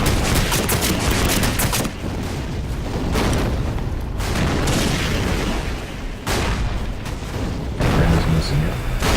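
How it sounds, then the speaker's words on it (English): Grenade blasts and gunfire around a machine gun turret in the Empires mod video game: loud, dense bursts of shots and booms, nearly continuous, with short lulls between volleys. "Throwing grenades at that machine gun turret over there."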